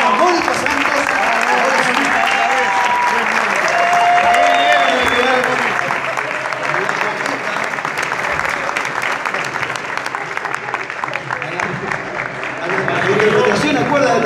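An audience at the Premios Romeo Gavioli 2019 awards ceremony applauds loudly and continuously for a long stretch, with crowd voices and cheers mixed into the dense clapping.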